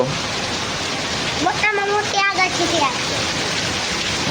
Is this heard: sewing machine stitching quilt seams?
no